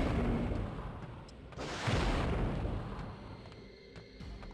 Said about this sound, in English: I think it's time for missiles.